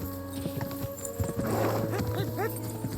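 Quick clip-clop of horse hooves galloping across ground in the medieval game Kingdom Come: Deliverance II, steady and close, with a few whinny-like calls and background game sounds, no talk.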